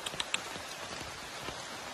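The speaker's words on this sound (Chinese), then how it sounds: "雨下的太大了。" A heavy downpour falls outdoors during a spell of continuous storms, giving a faint, steady hiss with a few brief drop-like ticks near the start.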